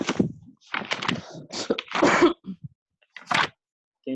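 Several coughs and throat-clearing bursts into an open microphone during an online health talk, close and fairly loud, in irregular clusters with short pauses between.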